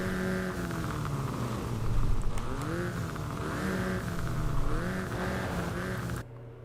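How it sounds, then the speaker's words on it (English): A car engine revs in a driving video game, a continuous droning motor whose pitch repeatedly swells and falls as the throttle is pumped, loud and close before cutting off abruptly near the end. "revving the motor is kind of irritating"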